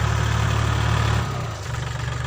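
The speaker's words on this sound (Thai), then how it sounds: "ตอนนี้รถไถกำลังไถนานะครับ" A tractor ploughs a rice paddy, its engine chugging in a steady low rumble close by that dips briefly in load partway through.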